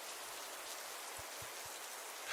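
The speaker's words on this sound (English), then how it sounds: "The rhythmic thumping of raindrops on the roof created an eerie symphony" Steady rain pattering on a car roof, a dense even hiss with a few soft low thumps of drops, continuous and alone.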